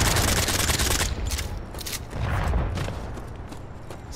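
Dense video-game gunfire roars in a loud, continuous barrage of noisy shots and booms, swelling and easing slightly without any pause.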